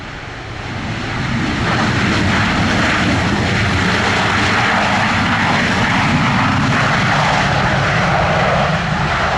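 An airplane lands at an airport in Jamaica, its engines a loud, close, sustained roar that swells slightly and then holds steady, with no voices.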